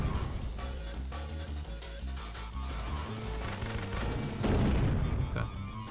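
Grenade explosions in the Syphon Filter 2 video game, with repeated booms and bursts of gunfire over a steady game music bed and a louder blast near the end.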